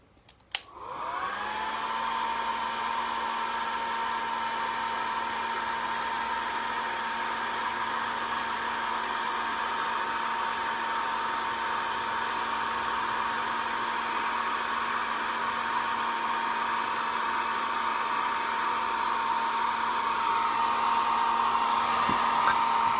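A hair dryer blows steadily for over twenty seconds to dry freshly painted thrift-store items, a loud, constant whirring hum that starts abruptly and runs alone with no talking.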